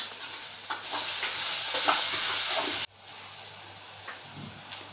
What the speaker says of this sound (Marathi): परतवून घेऊया।